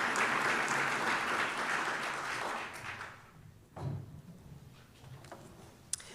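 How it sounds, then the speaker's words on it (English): Audience applause at a Siena College commencement awards ceremony, a dense burst of many hands clapping that fades over a few seconds, leaving a quiet hall with a couple of faint thumps and a sharp tap. "Please join me in a final round of applause for all of this year's ACE Award winners."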